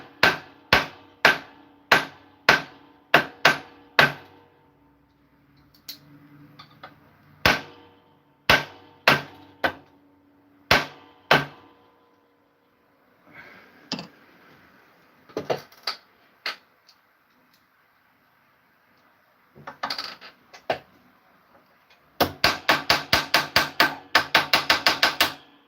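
Metal being hammered by hand into an engagement ring in a jeweller's workshop: sharp, ringing blows in spaced runs, with quieter scraping between them and a fast flurry of strikes to finish.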